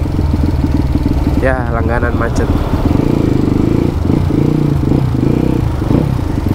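A Yamaha WR155 motorcycle with a changed exhaust note runs loud and close, its engine droning steadily with a quick rev partway through, while someone talks over it.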